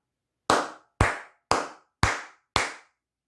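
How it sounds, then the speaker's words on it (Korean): Five crisp, evenly spaced hand claps ring out one after another, each sharp and close with a short decaying tail against silence. "크게 박수 한번 치고 가도록 하겠습니다"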